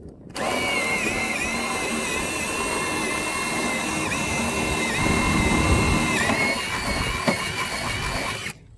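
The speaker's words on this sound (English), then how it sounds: "So Tristan, is that called pilot hose that you just drilled?" A power drill whines continuously for about eight seconds while boring bolt holes for DIY barn doors, loud and close with slight shifts in pitch as it cuts.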